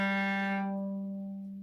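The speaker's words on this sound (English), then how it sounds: "The lowest sound that the violin can play sounds like this," A violin sounding its lowest note, a single sustained low tone that holds steadily and softly fades over under two seconds, quiet and alone.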